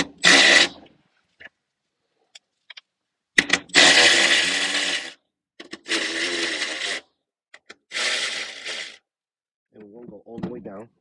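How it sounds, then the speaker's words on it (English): Power tool loosening the battery terminal bolts on a W222 Mercedes S-Class, heard as three or four loud close bursts of whirring, each lasting one to two seconds, separated by quiet gaps with small clicks. "We're just going to save time by bringing them down with the power tool."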